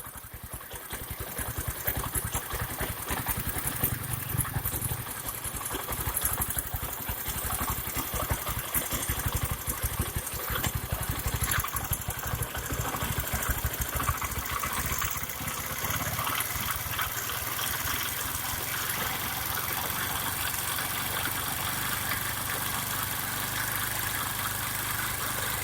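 A Bajaj Pulsar 135 LS motorcycle idles close by while its adjustment screw is slowly turned, a steady buzzing engine note with rapid vibration that shifts slightly in pitch and roughness partway through.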